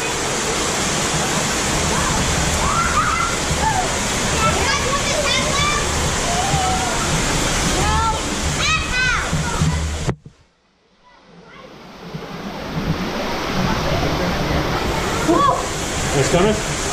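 Eden Falls, an underground waterfall at a cave mouth in the Buffalo National River area, roars as a loud steady rush of falling water that drops out briefly and then returns, with voices partly over it.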